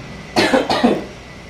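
Two quick, close coughs one after the other, fairly loud against a faint background hiss.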